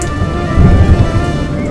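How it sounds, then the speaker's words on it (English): A hurricane thunderstorm at sea in an animated film, with heavy rain and low rumbling thunder swelling midway, loud and close, no voices over it. "Hurricane it cometh! King Triton must be angry indeed"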